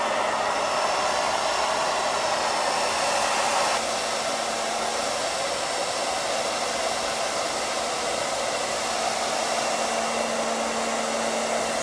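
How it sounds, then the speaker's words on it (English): A blow dryer blasts hot air in a steady, loud, broadband rush that runs unbroken throughout, close to the microphone with no talking over it. "I have a blow dryer to show how that looks in the camera"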